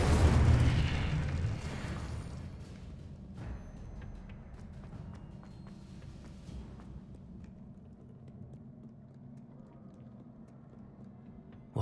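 The Incendio fire spell from the Hogwarts Legacy video game bursts with a loud whooshing blast at the start, then fades into a long rumbling, crackling decay.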